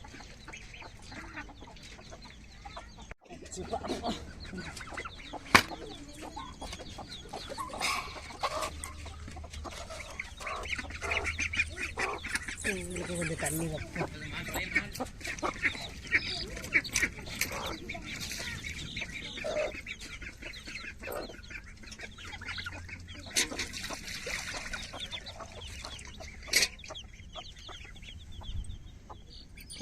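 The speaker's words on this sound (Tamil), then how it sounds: "இது கோழி குஞ்சு நாங்கள் முட்டையில் அடக்காக்க வச்சு குஞ்சு இறக்கிருக்கோம்" Young chicken chicks, freshly hatched from eggs under a brooding hen, cheep and cluck repeatedly at close range over steady farmyard noise, with a brief voice speaking once.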